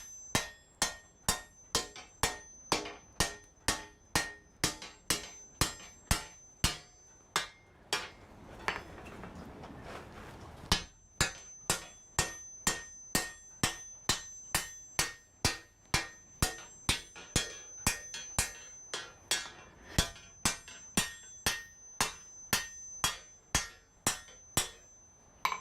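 A hammer strikes hot metal by an anvil in a forge, loud, sharp ringing blows landing in a steady, rapid rhythm, with a short pause midway before the strikes resume.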